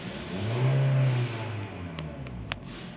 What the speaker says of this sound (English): I'm going to give it some gas